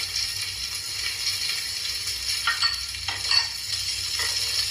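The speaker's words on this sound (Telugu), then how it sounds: "ఈ ఆనియన్ వేసుకున్నాక కొంచెం ఇలా పచ్చివాసన పోయే వరకు దీన్ని వేయిస్తూ ఉన్నాము." Chopped onions fry in a pan with oil for mushroom soup. A steady sizzle runs throughout, and a utensil scrapes and stirs them a few times near the middle. No one speaks.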